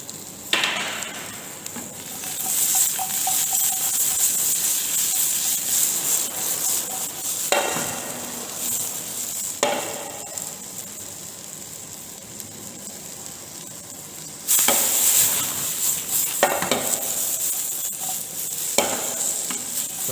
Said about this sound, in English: and again mix well